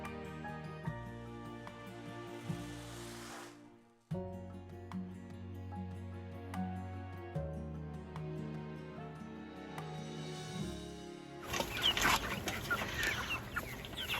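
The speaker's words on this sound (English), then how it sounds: "here are the meat birds that we started back in, what was it, March?" Meat chickens on a farm cluck steadily beneath continuous background music, with a denser, noisier burst of flock sound near the end.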